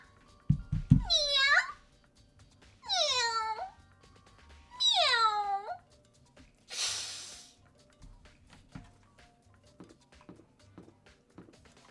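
A person imitates a cat with three drawn-out, rising-and-falling meows in close succession, followed by a short breathy snort, all up close with quiet gaps between.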